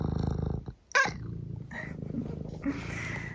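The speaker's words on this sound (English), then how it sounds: "Why are you sitting there meowing at me?" Pet cat making soft meows and chirpy squeaks indoors, a few short calls separated by low purring or rumbling, close and fairly quiet with no talking.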